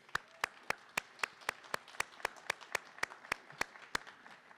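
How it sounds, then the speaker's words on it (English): Slow, sparse clapping at an Earth Day event about cutting energy bills for DC families, about sixteen distinct claps in a steady rhythm, faint and fairly close, like one or two people rather than a full audience. "So could we give them a round of applause?"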